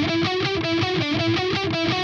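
Distorted electric guitar chugs through a repeating riff, with fast even palm-muted pulses, loud and alone with no talking.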